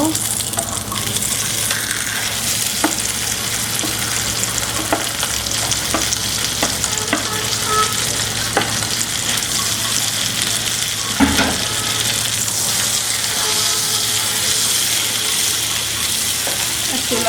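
Boiled, ground chana dal paste fries loudly in a pan for halwa, with a dense, unbroken sizzle and scattered spatula scrapes and clinks throughout, close up.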